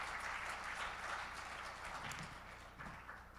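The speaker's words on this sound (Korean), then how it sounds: "박수 한번 보내주시면 감사하겠습니다" Quiet applause from a conference audience at a forum in Seoul, a steady wash of clapping that fades slightly toward the end.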